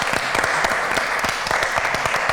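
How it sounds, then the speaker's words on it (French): A studio audience on a French television game show claps for a female contestant, a loud, lively burst of applause with sharp individual claps standing out over the crowd. "félicitations, on applaudit pour elle."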